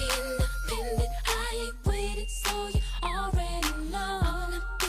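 A song plays, its beat of punchy kick-like thumps at a steady pulse under sustained synth tones and sliding lead notes, loud and without speech.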